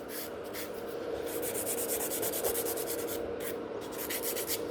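A nail file rasps rapidly back and forth, shaping gel nails to an almond form and thinning the sides; close, soft, rhythmic scratching strokes with no voices.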